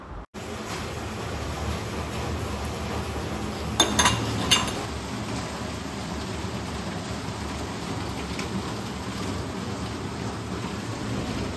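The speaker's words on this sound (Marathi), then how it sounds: "आज बाहेर खूपच पाऊस लागला आहे. एकदम पाऊस पडते बघा किती." Steady rain hisses outside as a constant broadband wash, with a couple of brief louder knocks near the start.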